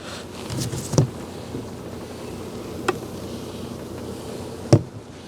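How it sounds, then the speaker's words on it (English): Bees buzz around honey frames during a bee cutout, a soft continuous hum with a few sharp knocks and taps from handling the frames. "There's bees that are stuck to the honey"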